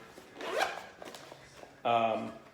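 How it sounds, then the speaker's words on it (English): A single center zipper on a waterproof, taped and sealed bikepacking bag is pulled in one quick, close rasping stroke near the end, after a brief spoken stretch. "single zipper down the center"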